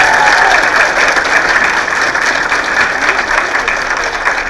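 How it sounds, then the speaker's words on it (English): An audience at a university jazz band concert gives dense, sustained applause that stays loud and fills the room throughout, with no voices standing out. "How about a nice round of applause for this guy?"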